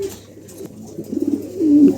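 Pigeons cooing softly in low, throaty rolls, the calls growing fuller toward the end, close by with no one speaking.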